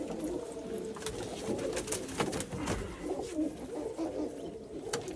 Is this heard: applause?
no